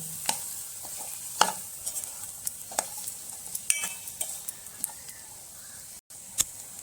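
Boiled potato stirred into frying masala for Kolhapuri misal, a soft low sizzle with irregular scrapes and knocks of a spoon against the pan, close by with no voices.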